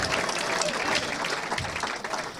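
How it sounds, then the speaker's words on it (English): Comedy club crowd at a DC Improv late show clapping for the comic: a thick, continuous burst of applause, loud and close, fading slightly toward the end. "Clap it up for me."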